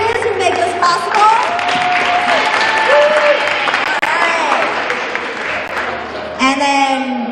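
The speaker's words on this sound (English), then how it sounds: "Let's give a big round of applause to our coaches who make this possible." Applause for the coaches at a middle school debate tournament, a steady room-filling clatter of clapping lasting several seconds, with voices and cheers mixed in throughout.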